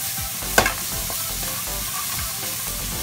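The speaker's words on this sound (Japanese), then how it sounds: "油を敷いたフライパンに玉ねぎを加えて、でこれを弱火で色が変わるまで炒めます" Chopped onions sautéing in an oiled frying pan over low heat, a soft continuous sizzle punctuated by a sharp clink of a utensil against the pan and light stirring scrapes.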